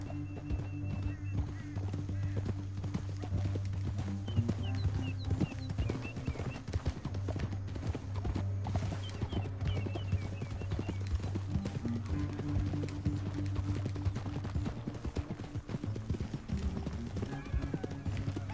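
Horse hooves clip-clop in a steady rapid gallop in the video game Red Dead Redemption 2, over a low droning music bed, with occasional faint voices in the mix.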